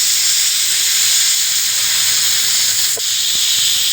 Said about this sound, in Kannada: ನೋಡಿ ಫ್ರೆಂಡ್ಸ್ ಎರಡು ವಿಷಲ್ ಆಗೋಯ್ತು